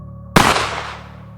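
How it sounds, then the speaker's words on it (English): A single sharp gunshot cracks out once, loud and close, its echo decaying over about a second against a low background hum. "a single gunshot shattered the silence"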